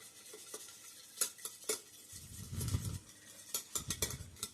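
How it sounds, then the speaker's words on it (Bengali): A whisk scrapes and clinks through sugar, white oil and vanilla essence in a bowl, irregular taps and strokes close by, with a brief low thump midway and no talking. "একটা হুইস্ক দিয়ে ভালো করে চিনিটা"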